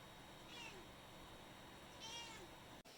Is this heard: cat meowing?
yes